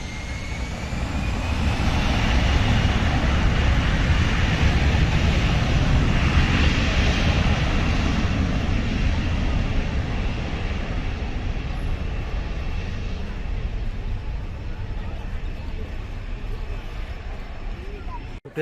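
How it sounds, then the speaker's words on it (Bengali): An Air Arabia Airbus A320 departing Dhaka for Sharjah produces a loud, broad jet roar that swells over the first few seconds and then slowly eases, with some talk mixed in. "আমরা দেখছি এয়ার এরাবিয়ার এয়ারবাস মডেলের এ থ্রি টু জিরো মডেলের এই বিমানটি এখন সংযুক্ত আরব আমিরাতের সার্জার উদ্দেশ্যে উড়ে যাবে ঢাকা থেকে"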